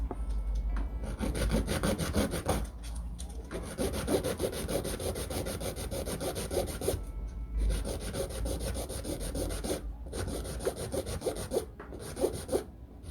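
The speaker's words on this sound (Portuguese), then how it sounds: "Eu vou vir com a minha lixa manual. Eu vou acertar primeiro o comprimento." A manual nail file rasps against a polygel nail in rapid, continuous close-up strokes. The scratching stays steady and dense, broken only by a few brief pauses, with no voices.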